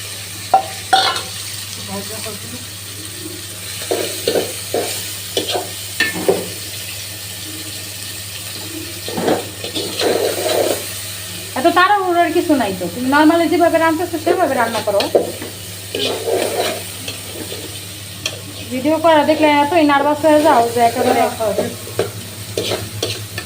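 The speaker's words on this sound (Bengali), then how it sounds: "পেঁয়াজের মধ্যে এখন চিংড়ি মাছগুলো চিংড়ি চিংড়ি চিকিগুলো দিয়ে দিচ্ছি" Dried shrimp frying with onions in a pan for a green jackfruit curry sizzle steadily while a spoon stirs and scrapes, and voices talk and sing over the cooking.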